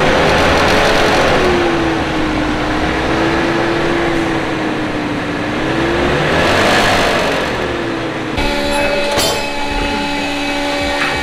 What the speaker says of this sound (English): Rev that bitch the f up. Wait till it gets warm, alright? It's a mystery engine.